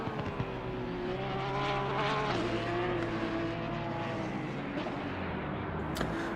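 Engine of a Porsche GT race car in Assetto Corsa Competizione at Barcelona, a steady high-revving drone with shifting harmonic tones, close and sustained throughout with no breaks.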